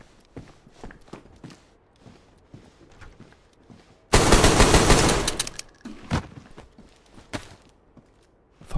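Gunfire in the survival video game DayZ: a loud, sustained burst of shots about a second long erupts midway, followed by a few scattered single reports among quieter footsteps and movement.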